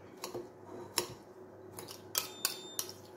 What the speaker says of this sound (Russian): Так, салат нужно посолить и заправить нашей заправочкой.